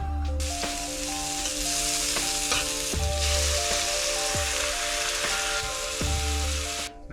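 Dinner frying in a pan while boat camping, with a loud, continuous close sizzle and occasional stirring scrapes over a steady tonal hum.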